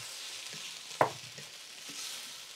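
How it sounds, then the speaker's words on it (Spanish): Ingredients for green chicken stirred in a clay cazuela over a soft steady sizzle, with one sharp scrape or knock of the spoon against the pot standing out near and fairly quiet. "le voy a mover para que se revuelva todo lo que le puse aquí a la cazuela"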